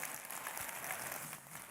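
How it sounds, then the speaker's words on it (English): Brief round of applause from a conference plenary audience, a faint, distant wash of clapping that holds steady for a moment without any voices on top. "Can we get one more round of applause"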